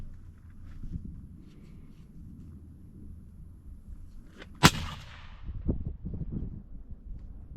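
A single sharp rifle shot fired while sighting in a Vortex Crossfire scope, with one loud crack and a rumbling outdoor echo trailing off after it and faint handling noise around it.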